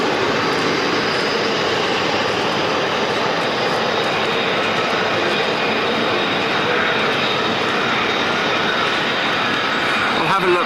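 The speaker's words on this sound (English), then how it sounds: "another F-35's coming down, and the other one's moving, so they're going to go out" An F-35 fighter jet descends to land at RAF Lakenheath, its engine a loud, sustained roar that fills the scene throughout.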